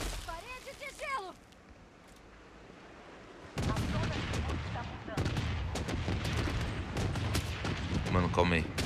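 Video game gunfire in a shooter, a dense run of sharp shots and booming bursts starting a few seconds in and continuing to the end, with a voice heard briefly near the start.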